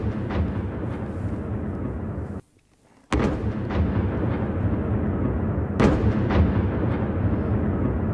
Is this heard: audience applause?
no